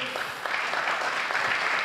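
Steady, dense applause from an audience at the Ambasador Nowej Europy 2015 award ceremony, a continuous wash of clapping that fills the space, with no voices.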